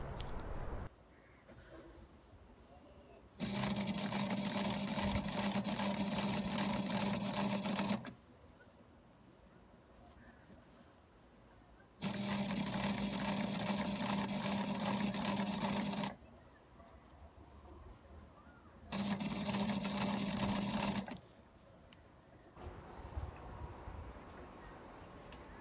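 A Sailrite Ultrafeed industrial walking foot sewing machine stitches a hammock in three sustained, steady runs of whirring, humming motor and rapid needle strokes, with quiet gaps between them.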